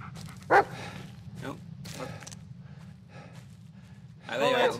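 A dog barks once, sharp and near, in the Blair Witch video game, with a second burst of barking near the end amid breathy gasps and a low steady game ambience.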